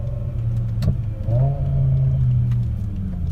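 A Gintani-tuned BMW E60 M5 running E85 idles with a deep, uneven exhaust burble, one sharp crackle near the start and a brief rising blip of revs close by.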